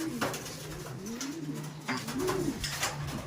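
Pigeons coo repeatedly in soft, rolling calls, fairly close, with a steady low background hum and no talking.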